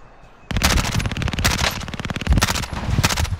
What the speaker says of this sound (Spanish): ¿Y vos a quién le estás disparando, Hernán?